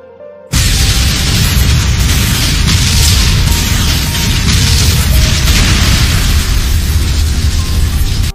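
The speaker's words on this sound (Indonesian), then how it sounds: "Ledakan besar pun terjadi." A huge explosion in the Naruto Shippuden anime bursts in suddenly and keeps roaring as one loud, dense rumble for several seconds before cutting off.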